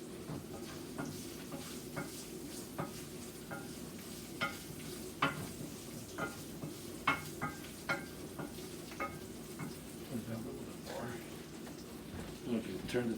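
Garlic roasting slowly in a pan for basil pesto, a soft continuous sizzle with light irregular ticks and pops, fairly faint, with low voices murmuring underneath.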